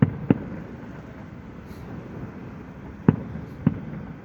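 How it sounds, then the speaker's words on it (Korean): Distant fireworks from a fireworks parade go off in sharp, muffled bangs, two near the start and two more a few seconds later, over a quiet ambient hum. "저 멀리 터지 폭죽을요."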